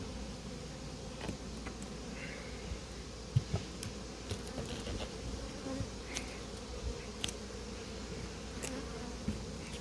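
Honeybees buzz around a hive at an apiary, a faint continuous hum with occasional closer passes of individual bees, no voices.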